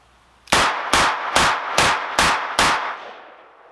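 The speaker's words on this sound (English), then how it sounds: "Let's do 6 kind of rapid fire shots on the 7-yard target," Six rapid double-action shots from a stainless Taurus M44 .44 Magnum revolver with an 8-3/8 inch barrel, fired at a 7-yard target: loud, evenly spaced booms, each ringing briefly before the next, then a fading echo.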